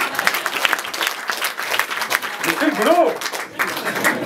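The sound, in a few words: applause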